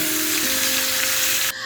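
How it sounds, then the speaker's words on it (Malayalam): Marinated chicken pieces hit hot garlic-infused coconut oil with a loud, steady sizzle and crackle that holds evenly, then cuts off abruptly near the end; no one speaks. "ഇനി നമ്മൾ മാറിനേറ്റ് ചെയ്ത് വെച്ചിരിക്കുന്ന ചിക്കൻ പീസസ് അതിലേക്ക് ഇടുകയാണ്."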